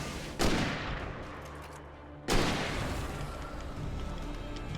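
Gunfire in the horror game Alan Wake Remastered: two loud, booming shots about two seconds apart, each followed by a long rumbling decay with no talk.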